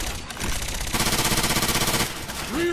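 Automatic gunfire at a zombie in Left 4 Dead 2, heard as a rapid, evenly spaced stream of loud, close shots. A short burst opens, then a steady one-second run follows, and the clip ends with a rising mechanical whine.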